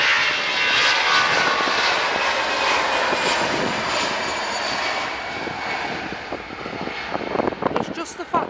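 A government jet at Manchester Airport, a loud sustained engine roar that slowly fades and thins toward the end, with people talking over it.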